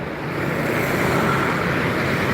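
Trucks pass along a road in the morning, a continuous broad roar of traffic with no voices, fairly loud and even from start to finish.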